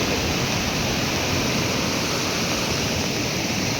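Torrents of water rush down hillside streams in heavy rain, a steady, close, unbroken roar that fills the whole scene with no voices over it.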